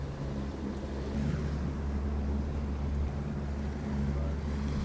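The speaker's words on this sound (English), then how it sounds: "open up this engine, and see what these Havoc boats can really do" A steady, low Havoc motorboat engine drone rumbles continuously, with water noise washing underneath, as the boat crosses a lake at a constant pace.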